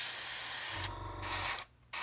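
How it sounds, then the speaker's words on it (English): Spray paint hissing onto the underside of the cargo bed of a 1/48 scale Kitty Hawk Ural 4320 model truck, two close, steady bursts separated by a short pause, then a brief final spurt. "so we can spray it on very lightly and let it build up, rather than try and go too heavy with it like I just did"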